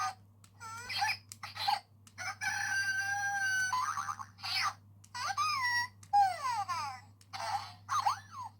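A Zhu Zhu Pets Num Nums toy plays electronic nose-button sounds: a run of squeaky chirps, sliding whistles and warbling cartoonish calls in short bursts, fairly faint and alone over a low steady hum.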